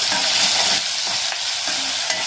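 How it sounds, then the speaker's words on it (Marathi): Green chilies sautéed in a pan with browned onions, a loud close hissing sizzle that stays steady over a couple of seconds, with faint stirring scrapes; no voices. "आता आपण मिरची टाकून घेऊया."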